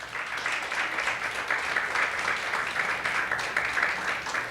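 Congregation clapping together during a Spanish-language church service, a steady, dense round of applause filling the room for several seconds without a break.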